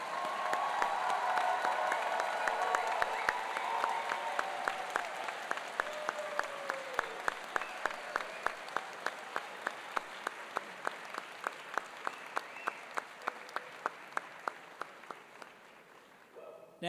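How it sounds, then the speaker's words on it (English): At a dental school white coat ceremony, the audience gives a long round of applause that begins as a full, dense roar with voices, then thins into slower, distinct individual claps and gradually fades. "Let's have one more big round of applause for our recipients."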